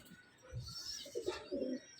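Top-quality pigeons offered for sale coo softly at close range, a few low throaty phrases over about two seconds, quiet overall with faint higher background noise.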